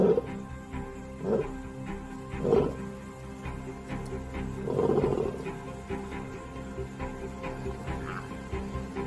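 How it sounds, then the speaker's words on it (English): A lion roars at night in the wild, several deep, throaty bursts spaced a second or two apart, moderately close, fading into quieter grunts against a low background. "The roar can be heard over 8 kilometers away."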